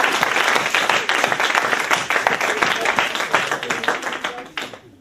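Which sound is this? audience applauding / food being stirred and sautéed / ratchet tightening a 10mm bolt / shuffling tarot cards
audience applauding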